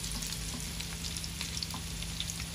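Pumpkin flower fritters sizzle in oil just after being turned over, a continuous close crackling hiss with small pops and no voices.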